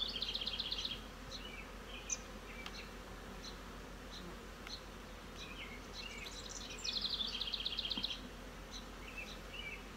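Bees buzz around an open hive full of pollen, a steady, soft, close drone with a few brief bird chirps over it.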